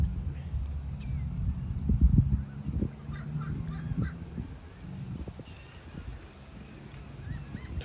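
Dozens of seagulls call and squawk in a crowded flock near a waterside store, harsh overlapping cries scattered through a steady low rumble of wind and water, with a louder burst of calls near the middle.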